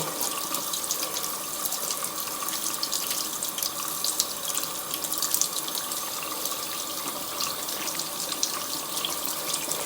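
Tap water runs continuously into a sink while a makeup brush is rinsed clean, a steady close splashing gush with no talking throughout.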